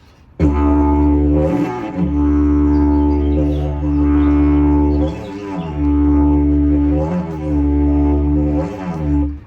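A deep, loud didgeridoo drone hums continuously with pulsing rhythmic swells and throaty accents, rich in buzzing overtones.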